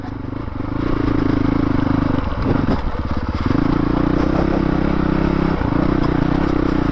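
A 2019 Honda CRF450L ridden on an off-highway trail: a loud, steady single-cylinder engine drone, up close, that briefly dips and sputters midway before settling back to a constant pitch. No speech.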